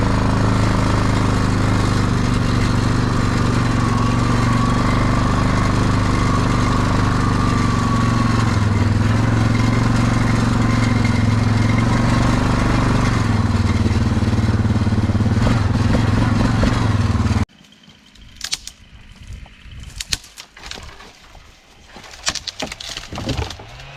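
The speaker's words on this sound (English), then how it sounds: "using the chainsaw" A loud, close chainsaw drones steadily for a long stretch while cutting a downed tree in a field, then cuts off abruptly, leaving scattered clattering and rustling.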